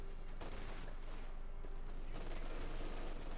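Two MG42 machine guns fire in a Company of Heroes 2 battle, their rapid bursts rattling continuously in dense, loud volleys with a brief lull partway through and no talk.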